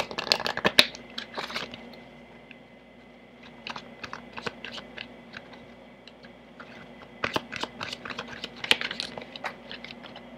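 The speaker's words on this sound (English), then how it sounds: "Lastly, I will be shuffling from the playing cards." A deck of playing cards being shuffled for a tarot-style horoscope reading, crisp riffling clicks and flutters in uneven bursts, close and fairly loud, with no talk.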